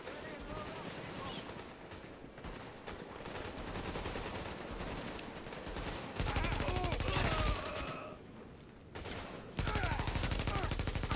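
Bursts of rapid gunfire in The Division crackle around a supply drop, mixed with voices and game sounds, with the heaviest volleys coming in the second half.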